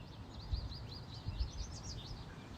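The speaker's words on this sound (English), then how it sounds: "this is an American goldfinch, and if we play this" An American goldfinch song played back from a field-guide recording, a quick run of thin, rising and falling chirps and twitters repeated steadily over a low background rumble.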